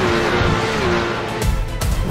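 Porsche race cars in an esports video game roar together at a race start, with a dense, loud engine wail and rising revs that swell and shift as the pack accelerates away.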